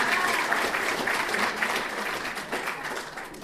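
Audience applause at a live stand-up comedy show, a steady dense wash of clapping from a crowd that holds for several seconds and tapers slightly near the end.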